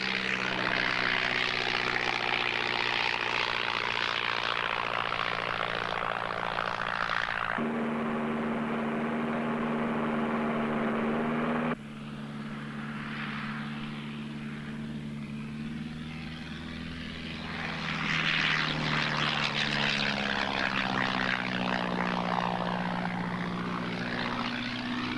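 A propeller airplane banking and turning, its engine droning steadily and loudly throughout, with the pitch and tone shifting as it maneuvers, no voices over it.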